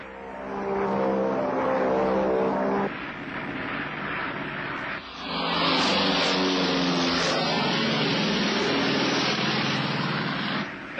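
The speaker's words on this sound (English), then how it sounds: "Now you will put this plane into a sharp right turn and a left turn." Old propeller airplane engine droning steadily through sharp right and left turns, its pitch and tone shifting midway as the maneuver changes; loud, close and continuous with no talk.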